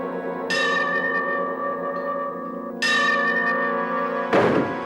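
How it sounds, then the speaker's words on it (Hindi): Two large bell strikes ring out inside a building as a rope is pulled, each with a bright metallic onset and a long humming decay, the second stroke about two seconds after the first, followed by a short dull knock. "और घंटा बजता रहा"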